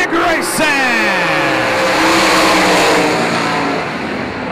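Sprint cars roar off the start at Golden Triangle Raceway Park, a loud dense pack of revving engines with rising and falling pitch sweeps as cars pass close by, sustained throughout.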